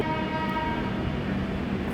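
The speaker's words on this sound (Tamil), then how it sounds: "இப்போ ஒரு ட்ரெயின் வந்து எஸ்எம்இடி" The Howrah Mail passenger train rolls past on Indian railway track, a loud sustained rumble of wheels and carriages with a droning horn-like tone running through, close by and alone without talk.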